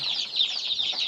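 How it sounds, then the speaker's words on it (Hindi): Small chicks peep continuously in a high, busy chorus of overlapping chirps, close and moderately loud, with no talk. "छोटे छोटे चूजे।"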